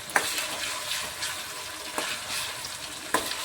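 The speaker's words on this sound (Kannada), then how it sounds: "ಕರ್ಬೇವಿನ ಸೊಪ್ಪು ಹಾಕ್ಕೊಂಡಿನಿ ರೀ. ಇವಾಗ ಒಂದು ಸ್ವಲ್ಪ ಫ್ರೈ ಆಗಿ ನೋಡಿರಿ." Curry leaves frying in oil for a quick onion chutney: a soft, steady crackling sizzle with a few sharp spatula knocks against the pan, close and moderately quiet, no talk.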